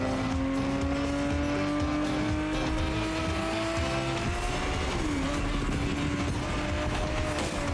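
A race car engine drones steadily in The Crew Motorfest, its pitch dipping as the car brakes and turns, with faint tire noise under continuous game sound and no talking.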